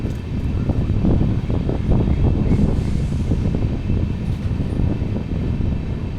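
A train runs along a railway line through small stations on a mountain ghat route, a loud continuous rumble of wheels on track with rhythmic clatter and wind buffeting the microphone, no talking.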